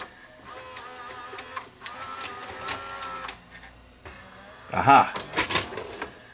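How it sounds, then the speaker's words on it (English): Loading motor inside a Sony SLVR1000 SVHS VCR, with a cracked collar letting the drive slip, whirring in mechanical bursts with a rattling grind near the end, while a person exclaims briefly. "I have a sneaking suspicion it's slipping here on the loading motor."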